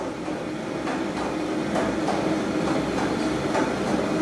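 Astrié stone-burr flour mill running with its millstones tightened, a steady dense mechanical rumble and whirr with faint regular clicks, continuous and fairly close, no talking.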